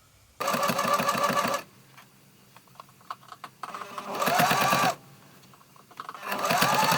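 Sewing machine topstitching along a trouser pocket opening, three loud bursts of rapid stitching separated by quieter pauses with small handling clicks.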